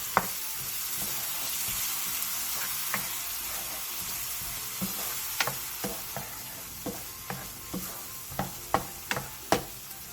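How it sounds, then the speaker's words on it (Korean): Onions stir-fry with seasoning sauce in a pan for a Korean side dish, making a constant broad sizzling hiss while spatula scrapes and taps grow louder and more frequent toward the end. "양파가 투명해졌으면 양념장을 넣고 골고루 어우러지게 볶아주세요."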